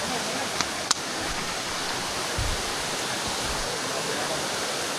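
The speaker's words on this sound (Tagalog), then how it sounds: "Ganito kaganda yung Bigaw Waterfalls." Steady broadband rush of Bigaw Waterfalls near Port Barton, a small jungle falls, fills the scene as continuous water noise with a couple of faint clicks and low bumps near the recorder.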